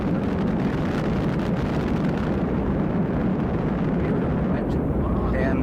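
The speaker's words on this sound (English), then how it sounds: "a 20-second firing of the 3 main engines" Roaring broadband rumble of the Space Shuttle's three main engines during a 20-second test firing in a ground countdown demonstration, a sustained, dense, distant-sounding roar.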